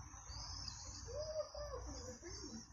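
Faint birdsong drifts in from outdoors, soft cooing and chirps set against a steady high hiss and low background rumble.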